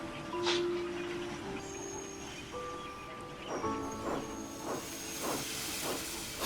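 Steam engine on a railway letting off steam, a steady broad hiss throughout with rhythmic chuffing bursts and a sustained whistle-like tone, set among music and voices.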